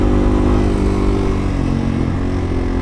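A Yamaha TW200 motorcycle engine idles steadily and loudly close by, a continuous mechanical hum with no talking.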